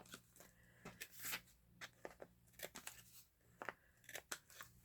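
Scissors snip the corners of a homemade Dollar Tree book journal tag, a series of crisp close cuts in irregular bursts with short pauses between, with no talk.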